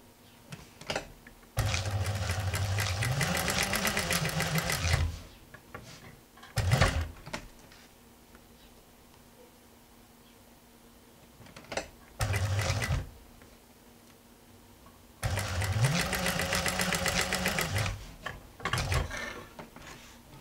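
A sewing machine stitches patchwork fabric pieces in two long bursts of a few seconds each, with short mechanical clunks and handling noises between the runs. It sounds close in a quiet room.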